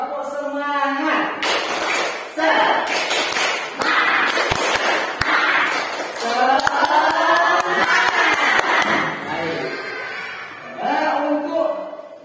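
A group performs a rhythmic clapping chant in a classroom lesson, with sharp hand-clap bursts interspersed with loud chanted voices, close and energetic, lasting several seconds with brief pauses.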